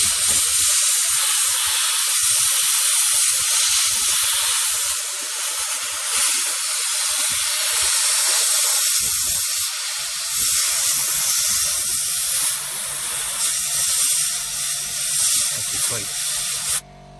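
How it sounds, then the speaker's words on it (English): Compressed air blasting sand out of a Nissan Qashqai interior, a steady loud hiss running almost without pause, rising and dipping slightly as the nozzle moves, with a brief break near the middle. "this is again where the compressed air comes in useful. So I'm just going to give it a blast"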